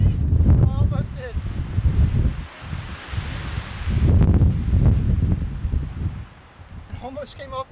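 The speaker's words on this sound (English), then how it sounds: "A little bit windy." Strong wind gusts buffet a winter camping site near a huge tent, roaring in broad surges with a lull mid-clip, while a person talks intermittently over the noise.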